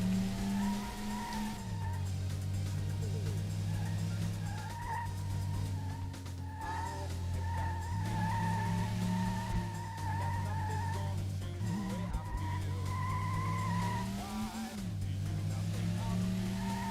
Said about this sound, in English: Little handbrake slide.